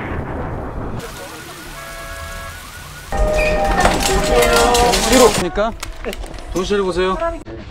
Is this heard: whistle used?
no